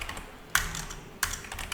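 Keys clack on a computer keyboard during Linux DNS server configuration, with two sharp close strokes over a faint background of lighter tapping and no talk.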